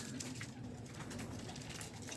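Homing pigeons coo softly in the distance beneath a constant outdoor rush of wind and background noise.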